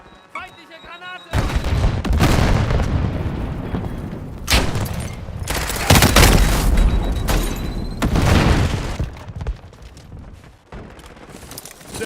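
Heavy grenade explosions in a military video game: a series of loud, deep booms and blasts spread over several seconds, mixed with crackling gunfire, while game voices call out.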